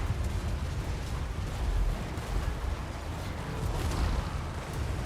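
Hand cannons firing during a battle in the Total War: Warhammer 2 video game, a dense continuous rumble of blasts and booming gunfire that stays loud throughout.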